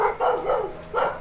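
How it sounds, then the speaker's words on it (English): A dog barks in a few loud, close bursts in Naousa, with short pauses between them. "the dogs keep barking"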